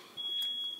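Kitchen smoke alarm giving a single thin, high, steady electronic tone that holds for most of a second, fairly faint against a quiet room.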